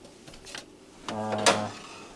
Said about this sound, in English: the singular laptop and keyboard drawer